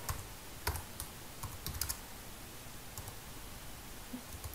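Quiet typing on a computer keyboard, a steady patter of soft key clicks with small bursts and pauses, close and low in level with no talk.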